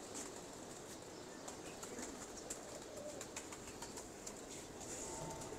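Pigeons kept in a loft, their faint fluttering and soft scattered clicks buried in a steady noisy background, with no one talking.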